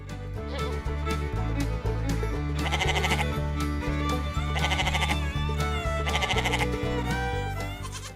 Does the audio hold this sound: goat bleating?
yes